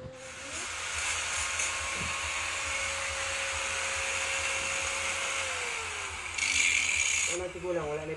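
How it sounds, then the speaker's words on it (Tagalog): A bolt being cut to fit the rear hub of a Honda Wave 125 during a rear disc brake conversion, heard as a steady, loud power-tool whine with a long sustained tone, rising to a harsher burst near the end. "pinutulan namin yung bolt para pag-pit dyan"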